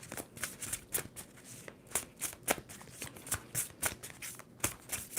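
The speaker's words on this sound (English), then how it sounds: "Two more shuffles." Cards are shuffled repeatedly in quick riffling bursts, close and crisp, with short pauses between each pass.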